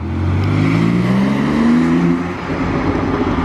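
A Ford GT sports car accelerating hard, its engine note climbing steadily in pitch as it pulls away, loud and close, then fading into a lower rumble of traffic.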